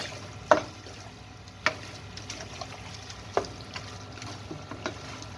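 Garlic and onions frying in a pan in a curry kitchen, a low steady sizzle with a few sharp clinks of a utensil against the pan at irregular intervals.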